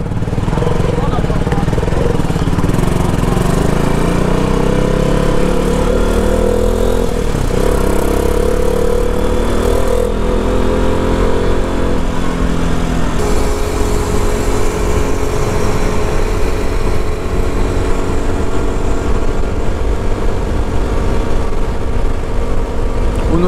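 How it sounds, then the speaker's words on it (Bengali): A motorbike on a highway leaving toll roads on a Kolkata to Sikkim road trip, its engine droning steadily and loudly throughout with wind and traffic rumble, no talk over it. "অনুরাগের প্রায় অনেক বছর পর এতটা বাইকও চালাচ্ছে"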